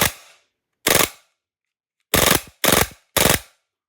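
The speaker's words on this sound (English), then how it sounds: "we should get a positive trigger pull now, and the gun should cycle fine" VFC Umarex Glock 18C airsoft pistol fitted with an FMG9 conversion, firing five sharp, close mechanical cracks, two spaced single shots followed by three in quick succession, with silence between.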